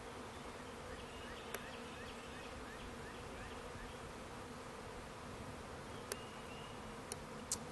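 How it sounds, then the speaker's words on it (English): A swarm of honeybees fills a tree with a dense, continuous buzz, steady and enveloping, with a few individual bees passing close by. "CB has discovered a swarming horde of honeybees."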